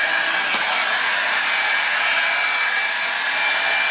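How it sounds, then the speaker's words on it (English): Revlon Salon One Step hair dryer and volumizer running at close range, a loud, steady whooshing blow without pause and no talk. "Is it noisier than the blow dryer or the same?"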